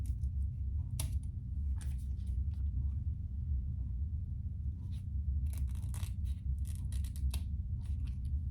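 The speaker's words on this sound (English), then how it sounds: "I do have some excess here, which I'm just going to trim off." Scissors trimming excess material off a handmade pack, a series of sharp close snips scattered over a low steady room hum, some single and some in quick clusters, with no talking.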